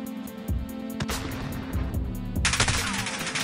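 Gunfire in a shooting video game, rapid bursts of sharp shots and automatic fire, loud and close, with a dense volley near the end and no talking.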